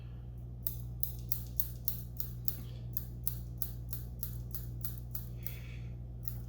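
Scissors snipping material while trimming a Mahi Mahi (dolphin) fishing fly, a rapid series of about fifteen crisp, close clicks over a low steady hum, fairly quiet.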